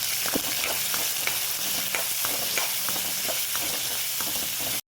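Chopped onions and curry leaves sauté in hot oil in a pan, giving a loud, continuous sizzle broken by light scraping stir strokes, close up, with no voices.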